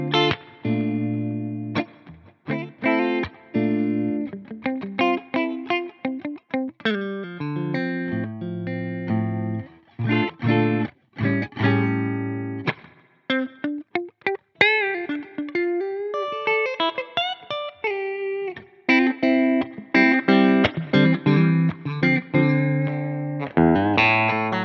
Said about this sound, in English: let's look at the different amps, and let's start off with the clean amp.